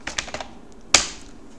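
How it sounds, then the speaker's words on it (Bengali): A short burst of four quick taps on a computer keyboard while a name is typed into an Excel spreadsheet, then a single sharper, louder key strike, close and otherwise quiet. "আমরা লিখছি কুমার,"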